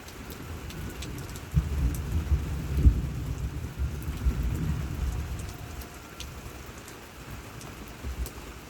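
Thunderstorm with steady rain falling on surfaces, low rolling thunder rumbling through the first half and fading, under a constant patter of drops.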